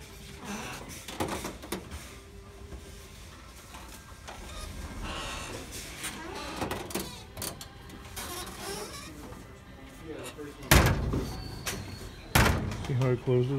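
A brand-new charging drawer with a coiled retractable cable slides and knocks shut, with sliding scrapes and a couple of solid thuds near the end, mixed with background talk.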